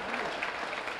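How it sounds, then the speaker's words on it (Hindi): Applause from the audience at a humorous mushaira poetry gathering, a steady wash of many hands clapping that fills the whole brief moment at moderate loudness with no voices on top. "तालियों की गूंज से एक बार फिर इनका स्वागत है।"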